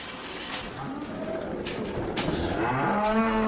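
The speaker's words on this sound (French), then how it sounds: "Ces vaches partagent leur étable avec d'autres locataires." Cows moo inside a barn on a traditional livestock and wine farm in Germany near the French border. Several drawn-out, overlapping calls sound at moderate distance over steady low stable noise.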